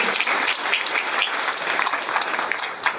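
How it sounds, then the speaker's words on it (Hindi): Applause at a Chaturmas satsang gathering in Vadodara honouring a student who completed CA, with dense, steady clapping from a large seated audience that fills the whole stretch without a break. "तालियां जोर से बजाना"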